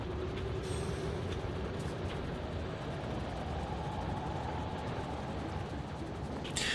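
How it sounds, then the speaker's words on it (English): A train rolls past in the game Factorio, a steady loud rumble of wagons and wheels filling the whole stretch without letting up, with no talk over it. "Hello, train. Good thing I didn't try to cross the tracks there."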